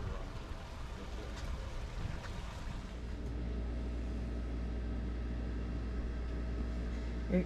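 A steady low engine rumble drones on board a Nordhavn 50 motor yacht cruising at a moderate speed, continuous and even throughout with no talk.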